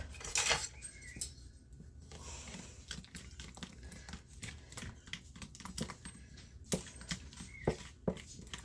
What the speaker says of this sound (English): We're going to give that a mix.